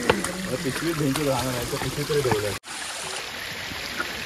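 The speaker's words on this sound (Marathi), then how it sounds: "पायऱ्यावरती पाणी वाहत आहे." Water rushes and splashes down stone steps continuously for a couple of seconds at Korigad Fort, with voices and background chatter over it, then cuts to a quieter, softer flow.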